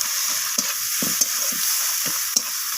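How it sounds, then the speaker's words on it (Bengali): Spices are stirred and sautéed with onion and tomato in a pan, with intermittent spoon scrapes and clicks over a steady frying hiss, close up. "তো সমস্ত মশলা এইভাবে নাড়াচাড়া করে আমি পেঁয়াজ আর টমেটোর সাথে কষিয়ে নিচ্ছি"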